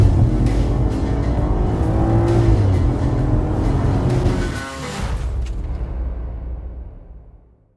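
A rebuilt salvaged BMW 540i on its first drive, engine humming and accelerating up close with shifting pitch, then easing off and fading away to near silence at the end.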